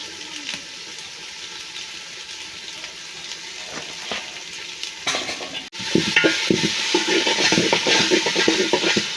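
Haleem spices frying and being stirred in a pot, a steady sizzle with scraping stir strokes that grow busier and louder partway through, with no talk.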